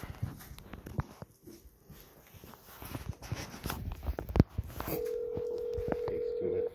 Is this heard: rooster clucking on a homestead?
no